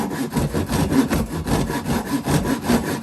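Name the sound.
9 teeth per inch pull saw ripping wood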